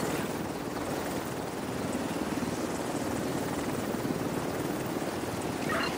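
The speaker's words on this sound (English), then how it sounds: "Hostile defender drone detected." A hostile defender drone in The Division 2 flies with a constant whirring, rotor-like roar that stays loud and steady throughout, with no voices.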